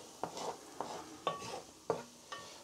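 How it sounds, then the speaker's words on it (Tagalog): Garlic sautés in a pan, stirred with a utensil that scrapes and taps in five distinct strokes about half a second apart over a faint sizzle. "Igisa ako ng bawang"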